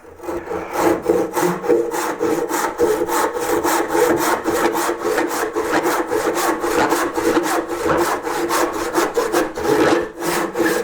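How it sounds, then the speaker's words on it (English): A hand saw cuts at an angle into a wooden carving of a hare's head, near the ears. The close, steady back-and-forth strokes keep a fast, even rhythm for the whole stretch, with no voices. "I'm cutting at a bit of an angle so I don't hit onto the other ear"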